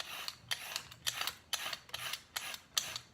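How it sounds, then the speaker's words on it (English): Carrots are peeled for a chicken casserole in a series of short, quiet scraping strokes, roughly two or three per second, close and alone. "After that, you want to get some carrots and start peeling."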